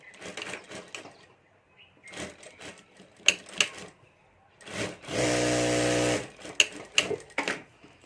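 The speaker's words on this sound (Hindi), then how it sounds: "और अब हमने जो निशान किया है वहाँ तक हमें सिलाई कर देनी है" A sewing machine stitches the side seam of a handmade Banjara bag, with scattered handling clicks and taps followed by one steady, loud burst of stitching lasting about a second.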